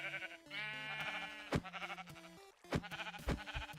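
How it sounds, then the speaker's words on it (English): Sheep in a farming video game give repeated wavering bleats, several nasal calls one after another at close range, punctuated by short sharp clicks, with no talk. "spawn a sheep"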